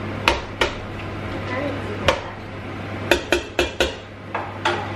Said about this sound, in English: I'll break it up a little bit anyway